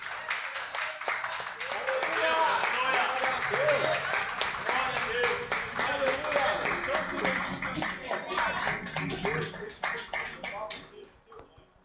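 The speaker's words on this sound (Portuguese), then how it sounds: "Vamos louvar o Senhor com as palmas por essa palavra?" A church congregation claps hands in praise after a sermon passage, a lively crowd of claps with scattered voices and shouts mixed in, building then tapering off toward the end.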